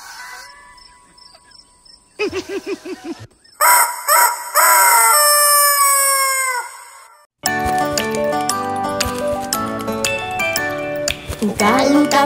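A cartoon rooster crows in a children's farm song, with a drawn-out cock-a-doodle-doo after short plucked notes, followed by bright upbeat music with clucking-like effects.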